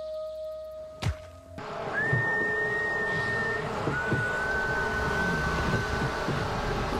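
A long, steady high whistle tone sustains over low rumbling background noise, following a sharp thump at the start.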